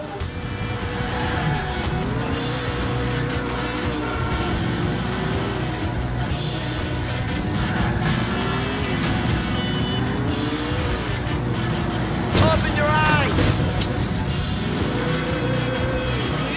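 An ageing car in GTA 4 drives with a constant droning engine, the revs rising and falling as it accelerates and shifts, and tyres squeal near the end, loud and continuous with no voices over it.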